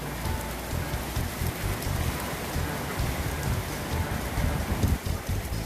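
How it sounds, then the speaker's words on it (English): Steady heavy rain pours down outside during an afternoon storm, a dense continuous hiss with pattering drops, loud and alone with no talking. "And the rain is back."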